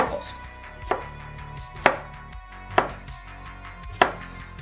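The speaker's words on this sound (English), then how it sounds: "Now we're just chopping it into half moon slices, going for about 5 mil each." A knife slicing halved zucchini into half moon slices on a cutting board, five crisp, evenly spaced chops with short pauses between them, close and clear with no talking.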